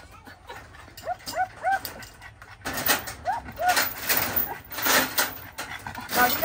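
A dog pants and gives high whimpers and yips up close, in short repeated bursts, while a steady hiss and other background noise rise partway through and faint chatter sits underneath.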